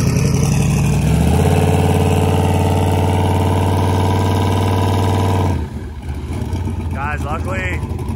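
A Toyota Supra race car engine idles loudly up close with a steady, rough drone that suddenly drops off and changes, then quieter mechanical noise follows with faint chirps near the end.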